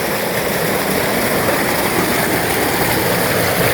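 A generator powering water pump motors runs steadily on a farm, a loud, continuous droning roar with no change in pitch and no voices.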